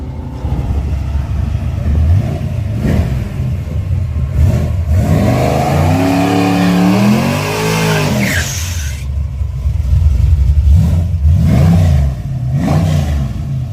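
A 1972 Chevelle drag racing engine revs hard at a street race, its pitch climbing steeply before cutting off, with loud rumbling idle and other engine noise around it.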